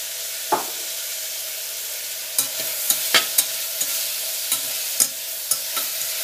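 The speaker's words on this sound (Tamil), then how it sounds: "நீங்கள் அப்பப்போ கிளறி விட்டுக்கிட்டே இருங்க" A utensil scrapes and clinks against a frying pan several times while moong dal with turmeric sizzles softly underneath, fairly close, no one speaking.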